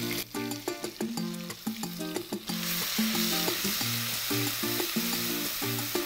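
Bay leaf, ginger, garlic and green chilies frying in hot oil for a jackfruit masala curry: a steady, loud sizzle runs throughout beneath rhythmic background music.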